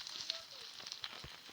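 Fire crackles in a wooden fireplace inside a video game: faint, irregular little pops and snaps over a soft, steady hiss, with no talking.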